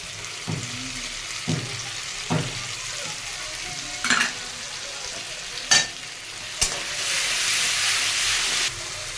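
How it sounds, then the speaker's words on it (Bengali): Ginger-garlic paste fries in oil in a pan with a steady sizzle, broken by several sharp stirring clatters spaced every second or so, the hiss swelling louder near the end. "আদা রসুনটা দেখো ভাজা ভাজা হয়ে গেছে, তেল ছেড়ে দিয়েছে।"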